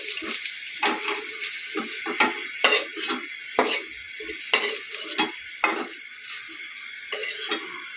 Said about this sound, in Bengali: আমি করলাটা আর আলুটা ভেজে নিব